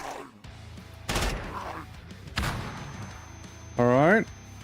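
Inside the video game Quasimorph, bursts of blast and gunfire-like booms arrive in a short sequence amid game noise, with a sharp tonal whine at the end, moderately loud.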